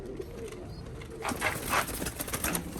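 A Sanaani pigeon gives a few soft, low coos close by, with faint background noise and rustling.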